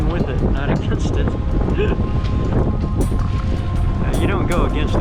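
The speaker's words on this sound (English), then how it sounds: "To top it off, it got really windy all of a sudden." Sudden strong wind roaring across a microphone aboard a sailboat in the Tacoma Narrows at max current, a loud continuous rumbling buffet with water and boat noise underneath.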